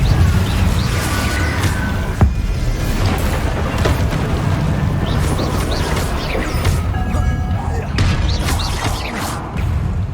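Booming blasts and crashes from the Confringo blasting spell in Hogwarts Legacy, loud and continuous with whooshing bursts over ten seconds, and a voice calls out now and then beneath the explosions.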